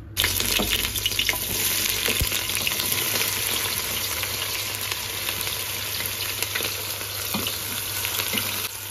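Onions, about five of them, frying in hot olive oil for a chicken stew, giving a loud, steady, dense sizzle that fills the whole stretch with no talking.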